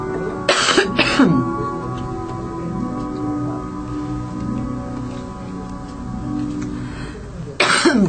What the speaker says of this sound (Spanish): me vino el ataque de tos